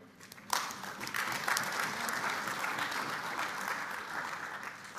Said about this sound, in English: So give yourselves a big clap, really.